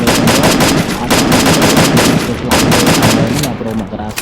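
Rapid automatic gunfire from a shooter video game, dense bursts of shots that run almost continuously and loudly, with brief gaps near the end.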